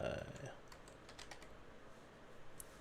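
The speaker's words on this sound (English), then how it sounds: "if I can type" Quiet computer keyboard typing, a short run of light clicking keystrokes heard faintly and close, following a brief bit of speech at the start.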